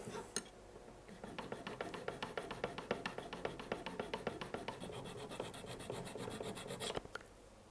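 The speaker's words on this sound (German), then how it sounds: "Ich habe hier einen minimalen Grat hier und den werde ich jetzt erstmal mit der Feile versuchen, ganz leicht abzukriegen." A hand file rasps a small burr off a metal part during a DIY router-lift build, giving quiet, regular back-and-forth scraping strokes that are close and soft.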